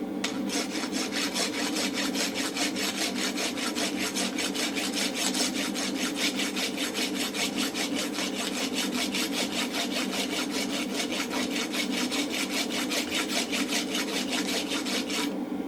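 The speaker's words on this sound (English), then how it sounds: "So now we rasp the bottom end." A hand rasp files steadily across the bottom end of a hot round steel punch at a blacksmith's bench, with rapid even rubbing strokes repeating close and continuous with no talk.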